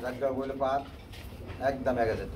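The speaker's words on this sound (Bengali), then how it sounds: "এই এক জোড়া রেড চেক কালারের মধ্যে রেসার কবুতর" A pair of red check racer pigeons cooing in soft, repeated bursts close by, with someone talking over and between the calls.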